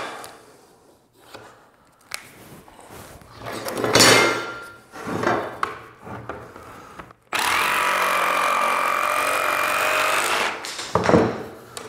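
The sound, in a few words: jigsaw cutting a NuCore vinyl plank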